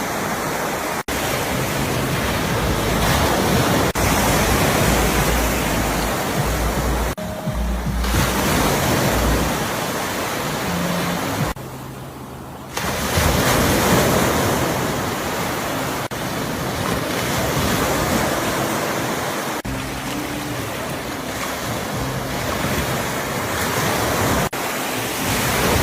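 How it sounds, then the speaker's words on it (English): Ocean waves break and wash continuously on a shore at night, a dense, loud roar of surf with steady rushing texture, brief lulls and some wind buffeting on the microphone. "We're just going to be real patient and observing the waves as they come."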